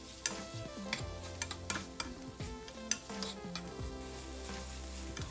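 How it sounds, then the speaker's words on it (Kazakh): Chicken breast sizzles steadily in a pan over medium heat, with occasional clicks and scrapes of a utensil turning the pieces; no talking. "содан кейін орташа отта екі жағынан жақсылап қуырып аламыз"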